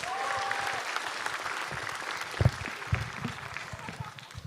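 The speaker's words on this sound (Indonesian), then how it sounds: "Tepuk tangan sekali lagi untuk Dewangga." A live stand-up comedy audience claps and cheers after a comedian's set, a dense applause that swells and then tapers over several seconds, with a few louder thumps and crowd noise mixed in.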